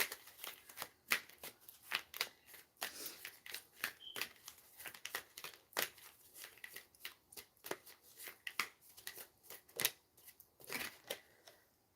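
Tarot cards shuffled and drawn during a live reading, giving a run of quick, dry riffles and soft slaps that repeat irregularly across the whole stretch at close range, with no talking.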